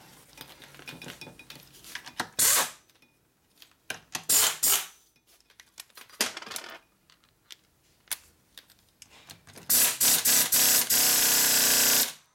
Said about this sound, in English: so we can torque that down and see if it's tight